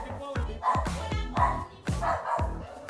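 An agitated dog barks repeatedly, about five or six sharp, loud barks in quick succession close by, with faint talk in the background.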